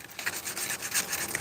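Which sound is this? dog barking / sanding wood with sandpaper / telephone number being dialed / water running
sanding wood with sandpaper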